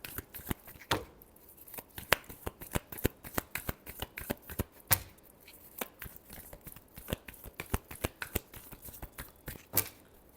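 A deck of tarot cards is shuffled up close, giving a steady run of crisp, rapid slaps and clicks with a few louder snaps, alone and with no talking.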